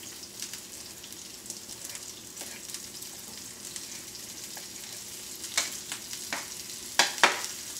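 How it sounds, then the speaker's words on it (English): Yellow squash frying in a pan gives a steady, soft sizzle with light crackle, a few sharper pops standing out near the end, close by and with no talking. "oh, listen to that sizzle"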